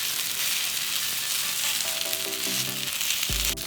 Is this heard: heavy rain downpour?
no